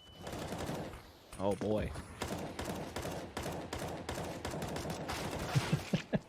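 Rapid bursts of AK rifle fire in a Valorant match ring out under continuous excited esports casting, with a few sharp louder shots near the end.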